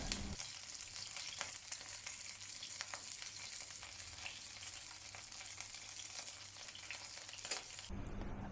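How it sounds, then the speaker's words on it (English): Cornstarch-coated fish fillet pan frying until golden, giving a steady, dense sizzle with faint crackles throughout, close and alone, cutting off abruptly near the end. "pan fry the fish fillet on both sides until golden"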